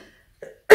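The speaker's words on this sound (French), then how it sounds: "Je tousse un peu" A single short cough bursts out close and loud at the end of a brief, quiet moment, following a faint throat sound.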